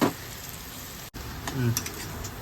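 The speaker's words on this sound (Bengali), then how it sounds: "হয়ে গেছে পেঁয়াজটা ব্রাউন কালারের" Onions frying in a pan until brown for a chole curry, a steady close sizzle with stirring scrapes, a brief cut partway through and a voice heard faintly near the end.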